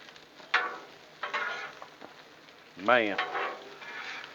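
Peppers and onions sizzle on a Blackstone griddle, with a steady frying hiss and several louder bursts of scraping and stirring. A voice is briefly heard.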